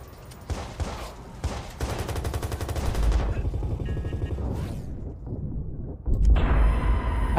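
Rapid bursts of semi-automatic video game gunfire crackle loudly and repeatedly, with dense overlapping shots and a brief lull before a heavier volley at the end; no voices.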